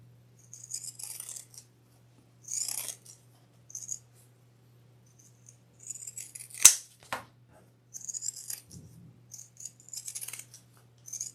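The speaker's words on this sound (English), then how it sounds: "I'm going to take my pinking shears and trim that seam allowance" Pinking shears snip through fabric to trim a bag's seam allowance, a run of sharp, close metallic crunching cuts in short bursts with pauses between, alone over a faint steady hum.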